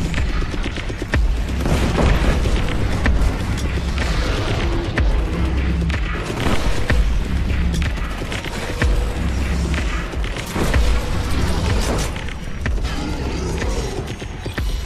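Grenade explosions in the Killzone Shadow Fall shooter, a loud, sustained barrage of deep booms and rumbling blasts with crackling debris, repeating for about fifteen seconds with almost no talk.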